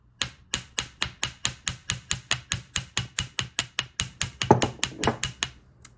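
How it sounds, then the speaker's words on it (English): The ball peen side of a small chasing hammer taps wire to give it a dented texture for jewelry making: about two dozen crisp, evenly spaced metallic taps in a steady quick rhythm, close up and alone. "I'm going to use my chasing hammer. And then this ball peen side is really good for putting like hammered dents in your wire"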